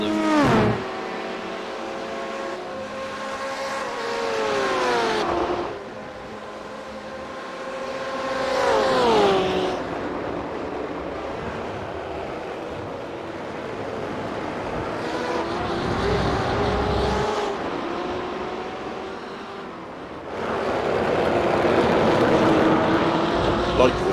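BMW race car engine in a sim racing game at Road America during a six-hour endurance event, rising and falling through gear changes with revving sweeps and downshifts, heard under people talking.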